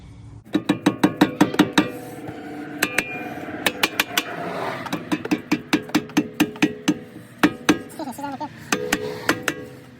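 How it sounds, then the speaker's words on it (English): Sharp metallic hammer taps ring out in quick bursts against a stuck rear brake rotor on a 2007 Audi Q7, loud and close, with short pauses between volleys and a voice briefly in between. "Might have to give it a few taps"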